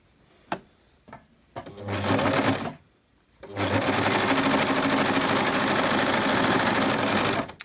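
A household sewing machine stitches a short seam on a bumblebee costume, starting with a few clicks and a brief burst, pausing, then running steadily in a loud, even whir for several seconds before stopping.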